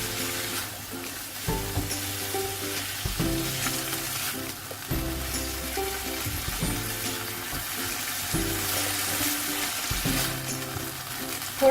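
Boneless chicken fries with chili garlic sauce and a chicken cube in a pan. The sizzle is loud and steady, with stirring scrapes and a few bursts of hiss, and no voices.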